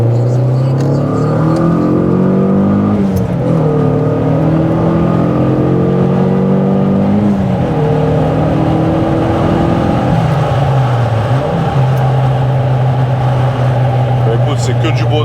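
A Fiat coupé's stage 2 turbo engine revs loudly and continuously, pitch climbing and falling through gear changes, close and dominant throughout.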